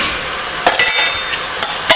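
Chili stirred into cottage pie mince in a hot pan, with steady background sizzling and a few sharp scrapes and clinks of a utensil against the pan.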